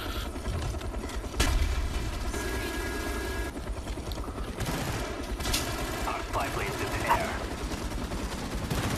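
Automatic sentry turret fire during an online multiplayer match of Call of Duty: Black Ops, a steady stream of rapid shots mixed with helicopter-like rotor noise and other battle sounds, with someone talking over it.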